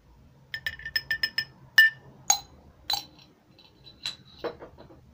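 Ingredients for a homemade coconut oil face scrub are stirred in a small container, giving a quick run of light, bright clinks followed by a few scattered taps in a quiet room.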